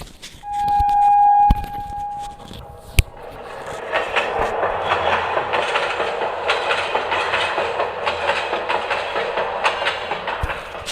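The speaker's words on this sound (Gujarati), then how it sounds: "આ ત્રણ એન્જિનો સાથે ભારતની સૌથી પહેલી રેલવે દોડી મુંબઈ અને થાણા વચ્ચે" A steam train whistle sounds briefly, then rail cars rumble along the track with rhythmic clickety-clack, steady and moderately loud, in an animated depiction of India's first train between Mumbai and Thane.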